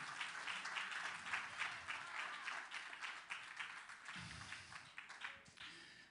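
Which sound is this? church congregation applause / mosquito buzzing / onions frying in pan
church congregation applause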